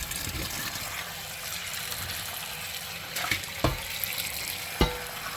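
Water runs into a pan to rinse out soap, making a steady splashing rush with a few sharper knocks and clatters of the pan, heard close up.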